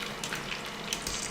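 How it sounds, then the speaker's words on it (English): Chicken frying in hot oil for honey butter fried chicken: a steady, dense crackling sizzle with small pops, heard alone at moderate distance. "as soon as I finish frying this last round"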